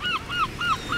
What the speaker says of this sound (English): So many seagulls